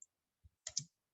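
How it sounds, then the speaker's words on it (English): A few soft key clicks on a computer keyboard, a lone tap followed by a quick cluster of two or three presses, close and isolated in an otherwise quiet room. "I'm just typing it like that"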